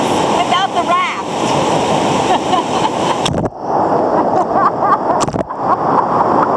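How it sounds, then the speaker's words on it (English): A waterfall and river rapids in the Suriname rainforest rush loudly and continuously up close, a dense roaring wash of water with brief dips. "We are in the middle of a waterfall."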